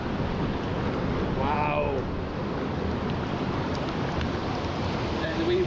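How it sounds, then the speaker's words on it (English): A river in Scotland rushes through a deep, narrow, ferocious stretch under a bridge, a loud and steady roar of churning water close by, with one brief exclamation from a voice. "This is the whole river through this, and that's one of the most deep and ferocious areas of the river."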